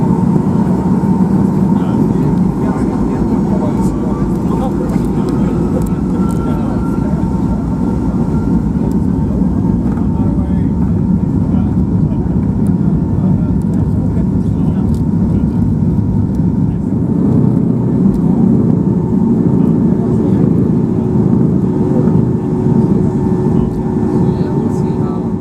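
A Norwegian Air Boeing 737-800 takes off from Arlanda's runway, heard from inside the cabin as a loud, steady jet engine roar with a low rumble that holds throughout.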